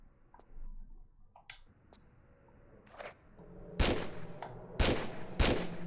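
Gunfire in the game Tomb Raider 4 arrives as several loud, sharp shots spaced about a second apart near the end. Fainter ticks and clicks come before them, and nobody speaks.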